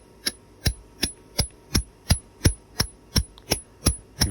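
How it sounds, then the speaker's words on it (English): About twelve evenly spaced, sharp metallic hammer taps on a chisel cutting off a piece of drop-forged steel outdoors, close and bright, with no talk. "A few little taps with a hammer."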